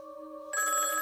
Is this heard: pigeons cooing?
no